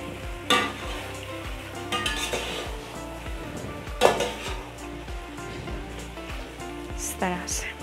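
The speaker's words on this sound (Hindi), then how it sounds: "हमने प्याज के साथ चिकन को अच्छी तरीके से जो है वो भून लिया है" Chicken and onions fry in a pan with a steady sizzle while a utensil stirs and scrapes, giving repeated clinks and knocks against the metal, close up and with no one speaking.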